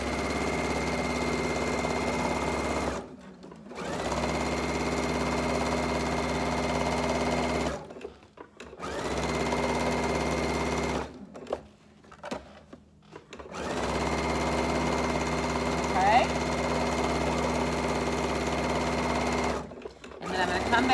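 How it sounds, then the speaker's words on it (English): Performance Icon sewing machine stitching a market bag, running in several long, close bursts separated by short pauses, with a low motor hum throughout. "I'm doing this on the Performance Icon, which is my favorite machine I've ever sewn on."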